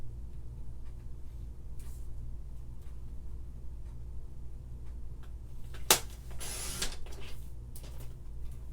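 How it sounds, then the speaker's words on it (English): A 1/4 by 3 3/4 inch strip of paper is cut for handmade card making: a sharp click, then a brief rasping slice, alone over quiet room hiss. "I'm going to cut a strip really quick"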